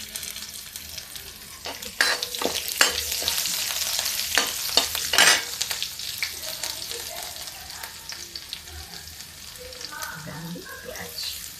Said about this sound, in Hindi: देखिए ये मसाले चटक रहे हैं, इसमें हम डालेंगे ये हमारा लहसुन।